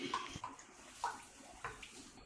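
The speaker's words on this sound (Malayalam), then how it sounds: "ജാറ് കഴുകിയ വെള്ളം കൂടെ ചേർക്കാം" Water from rinsing a blender jar is poured into a simmering egg curry gravy, making a few soft, quiet splashes and trickles in short bursts.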